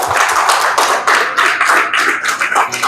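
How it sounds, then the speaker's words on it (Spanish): A church congregation clapping for the Lord, a close, lively burst of many hands in a quick steady rhythm, loud and alone without speech. "Dan un aplauso al Señor."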